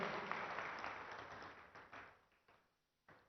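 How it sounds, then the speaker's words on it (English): Audience applause at the inauguration of the 2nd ICT Policy at HICC: a dense burst of clapping that tapers and thins over a couple of seconds, followed by a few scattered late claps, moderately faint and without talk. "give a big round of applause for what all happened in the 7 years in the state"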